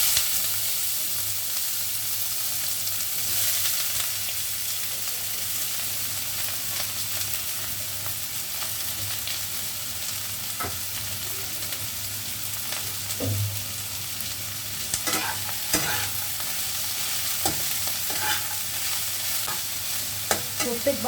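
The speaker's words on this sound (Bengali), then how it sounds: "তেল গরম হয়ে গেছে, সবজিগুলো ছেড়ে ফেলছি," Vegetables fry in hot oil with a continuous crackling sizzle, while a spoon stirs and scrapes the pan at irregular moments, growing busier toward the end; no talking.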